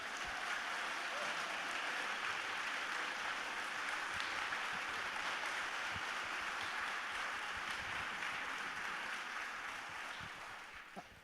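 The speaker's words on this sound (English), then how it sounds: "Another round of applause for Joy Harjo." Steady, dense applause from a crowd at an event with poet Joy Harjo at Crystal Bridges museum, sustained at an even level for several seconds before tapering slightly at the end.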